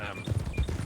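Horse hooves clip-clop in a few quick, close steps on a road in Red Dead Redemption 2, soft and brief with no other sound over them.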